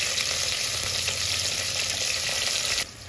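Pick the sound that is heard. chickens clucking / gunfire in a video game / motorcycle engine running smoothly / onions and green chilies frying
onions and green chilies frying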